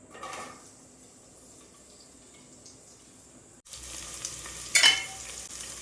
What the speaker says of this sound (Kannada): ನೋಡಿದ್ರಲ್ಲ, ಇದು ಫ್ರೈ ಆಗ್ತಿದೆ ಚೆನ್ನಾಗಿ.